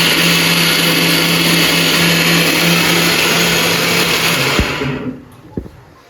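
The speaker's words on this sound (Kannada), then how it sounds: "ನಾವು ಕಟ್ ಮಾಡ್ಕೊಂಡಿರೋಂಥ ಮಾವಿನಕಾಯಿನ ಈ ಥರ ಇದ್ರಾಗ ಮಿಕ್ಸಿಯಲ್ಲಿ ಹಾಕ್ಕೊಬೇಕು" A kitchen mixer grinder whirs loudly and steadily as it blends cut raw mango, then switches off near the end, leaving a couple of faint clicks.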